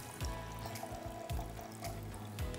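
About 50 grams of water poured out during a salt experiment, a trickling liquid flow with repeated splashy pulses, fairly close and steady.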